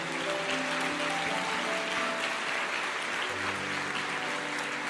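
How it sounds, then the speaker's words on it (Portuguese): A church congregation applauds during a worship service, steady dense clapping that fills the space evenly for several seconds, with sustained organ or keyboard tones running underneath. "A igreja aplauda ao Senhor."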